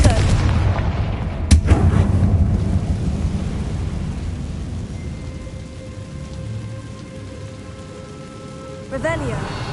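A Confringo fire spell blast in the Hogwarts Legacy video game, a sharp explosive burst near the start followed by rumbling crackle and a fading magical shimmer, with game ambience throughout.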